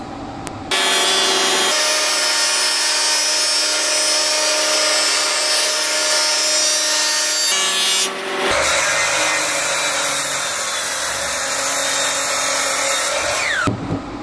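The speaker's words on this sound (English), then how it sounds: "what I want to do is mortise in a groove for a tenon" A power tool cuts a mortise groove into a wooden beam for a custom bathroom vanity, a loud, sustained whining grind with a brief dip near the middle before resuming, no talking.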